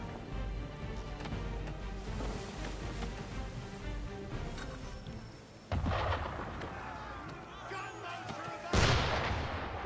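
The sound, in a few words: cannon fire at a boat in video game Assassin's Creed III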